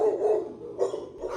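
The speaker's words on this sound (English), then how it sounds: "He is one of 98 dogs patiently waiting to find his forever home" Dogs barking at a crowded animal adoption center with kennel rows full, several sharp close barks in quick succession, loud and echoing, with no voices over them.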